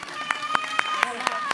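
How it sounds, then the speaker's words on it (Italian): Audience applause at a Sardinian powerlifting championship in Perfugas, heard as a short burst of scattered rhythmic claps under an announcer's voice. "Applausi a scena aperta comunque per Sara Carta"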